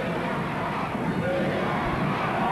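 Roaring sellout crowd of about 2,500 at a professional wrestling battle royal, a dense, steady wall of cheering and shouting that fills the whole clip without a break.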